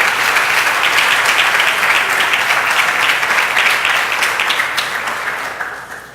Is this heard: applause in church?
yes